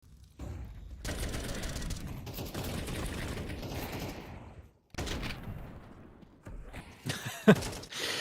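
Counter-Strike gunfire during a Fnatic vs Ninjas in Pyjamas match: dense bursts of rifle shots and clatter for several seconds, a brief gap, then more scattered shots with a sharp crack near the end.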